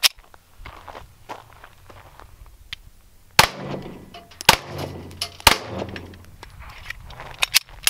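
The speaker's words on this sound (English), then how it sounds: "I'm gonna use a Glock 17, custom slide work done by Dynamic Weapon Solution" Glock 17 pistol with custom slide work firing 9mm full metal jacket rounds at an ATM: three loud, sharp shots with a metallic clang and short echo, separated by about a second, followed by quieter shuffling and handling noises.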